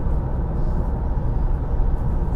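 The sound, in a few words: wind and tyre noise in Vauxhall Insignia Sports Tourer cruising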